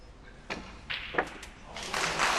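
Cue ball striking balls on a snooker table at the 2013 Wuxi Classic, a few sharp close clicks spaced about half a second apart, followed by rising crowd noise.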